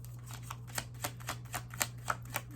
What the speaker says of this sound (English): I will go through one more shuffle